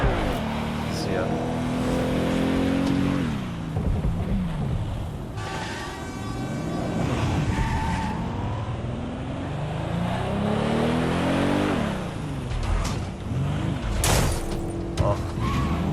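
A sports car in Watch Dogs Legion drives and skids, its engine note rising and falling with tyre squeals, loud and continuous under a talking voice.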